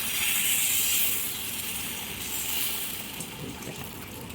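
Mango patishapta batter, made with ripe mango, cooks in a hot frying pan with a steady soft hiss and sizzle that rises slightly near the start and carries on evenly.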